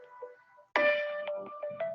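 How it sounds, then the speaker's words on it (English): A mobile phone ringtone sounds abruptly and loudly, a bright repeating electronic melody with sustained tones and rhythmic notes following a quiet stretch, with no talk over it. "I apologize for my phone ringing there."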